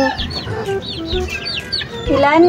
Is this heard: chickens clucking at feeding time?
yes